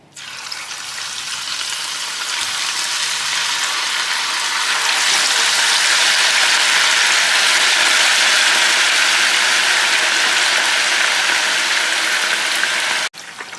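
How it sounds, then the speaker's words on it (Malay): Beef pieces frying in hot oil in a wok, a loud steady hiss and sizzle that swells after a few seconds and holds broadband for the whole stretch, then cuts off abruptly near the end. "Kita goreng dulu daging ni."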